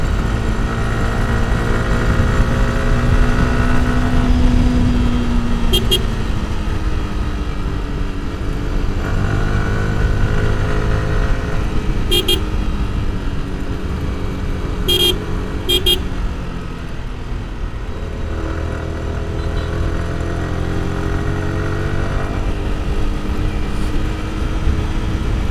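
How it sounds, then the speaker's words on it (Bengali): A Bajaj Platina motorcycle cruising at 70–80 km/h on the road from Chittagong to Khagrachhari, a loud continuous engine drone with wind rush, shifting pitch as speed changes, and a few horn toots from passing traffic. "প্লাটিনা 70-80 চালাচ্ছে।"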